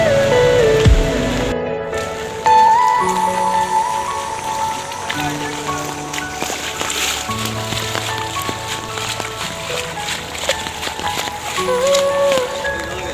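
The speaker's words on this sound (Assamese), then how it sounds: "এতিয়াও বৰষুণে দি আছে চাওক" Heavy rain pours down during a flood at Taltal in Bajali, Assam, a loud, steady, dense hiss of drops on surfaces with faint tonal hums in the background and no talk.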